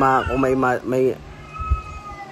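A cat meows close by, a quick run of three drawn-out tonal meows, followed by quieter background noise.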